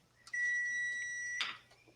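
A kitchen appliance signals that cooking is done with a short, clear electronic beep tone lasting about a second and ending in a brief burst, heard alone in a quiet room.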